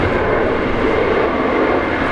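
A Qantas airliner takes off from a runway at Brisbane airport, a loud, steady broadband jet roar that stays close and constant without pause, with no voices over it.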